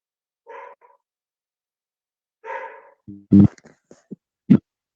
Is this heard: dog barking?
yes